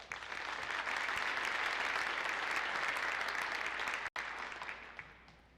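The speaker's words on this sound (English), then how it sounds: "let's give our candidate a round of applause" An audience at an electric cooperative's annual meeting gives a sustained, dense round of applause for a candidate elected unopposed, with a brief dropout near the end before the clapping carries on.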